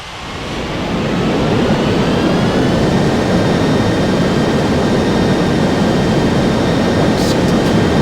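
A jet airliner at LAX airport produces a loud, steady broadband roar that swells in the first second and then holds close and constant, with no voices.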